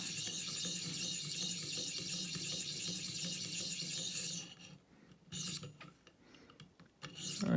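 Knife blade of Cruwear steel rubbed back and forth on a ViperSharp sharpening system, a close, continuous rasping scrape that stops abruptly near the end, followed by scattered light scrapes and clicks.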